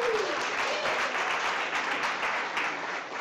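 Applause from an audience at a live cooking competition event, a dense, continuous wash of clapping held steady for a few seconds with a faint voice at the start.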